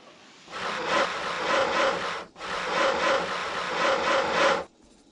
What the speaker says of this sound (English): Cut out the pieces for the swing set with your saw.